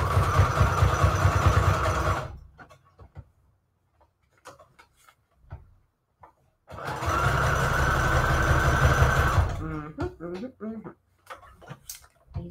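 A sewing machine runs a tiny zigzag stitch on lace, in two steady bursts of motor whir of about two and three seconds each, with quiet pauses and speech between and after.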